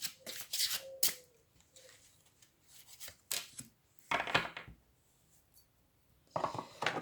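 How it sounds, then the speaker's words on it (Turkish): Tarot cards shuffled and drawn from several decks, giving close, crisp riffling bursts and soft sliding rubs in irregular clusters separated by quiet pauses. "Her zamanki gibi farklı destelerden kart çekiyorum."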